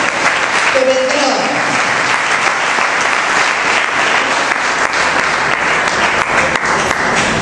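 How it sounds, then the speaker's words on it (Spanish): Loud, continuous congregational applause in church, many hands clapping steadily for the whole stretch with faint voices mixed in, praising the King during a sermon. "Alguien que aplauda al Rey y diga amén por la manifestación que vendrá."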